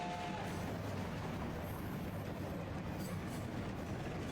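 A steady, dense rumble of an anime train rolling along the rails toward West City, continuous and moderately distant with faint rhythmic clatter.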